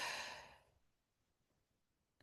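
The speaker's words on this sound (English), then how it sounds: "breathing in" One slow inhale during a guided breathing exercise, loud and breathy at the start, fading out over about a second and then followed by near silence.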